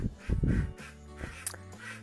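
Laying ducks in their pen quack in a brief burst of overlapping calls, moderately close, with some rustling in the background.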